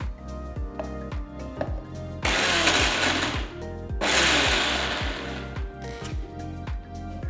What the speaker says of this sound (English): Now I'm going to add all the cooled ingredients into the mixer jar one by one. Just pulse it a few times.